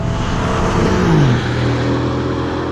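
A supercharged V8 in a 2020 Mercedes-AMG GLC63S Coupe revs up and drops back, a loud, close, steady engine tone with a falling pitch sweep midway, alone without talk.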